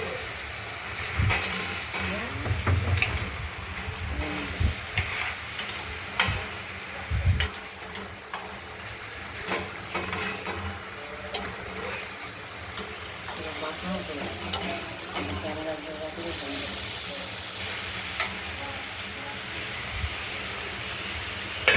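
Potato and onion frying in fish oil are stirred in a pan, giving a steady sizzle and hiss with irregular scraping and clattering of the spoon; a voice talks briefly at the start.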